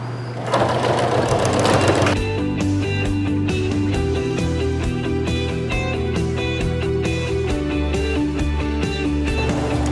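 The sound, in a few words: sewing machine stitching sweatshirt sleeve seam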